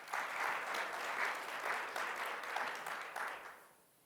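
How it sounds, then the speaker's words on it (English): A remote audience claps steadily for a few seconds, a dense even patter of many hands that fades away at the close, with no voices over it. "applaud for her remotely"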